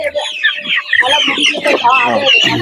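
Country chickens and Giriraja chickens cluck loudly and continuously up close, their overlapping calls busy and jittery.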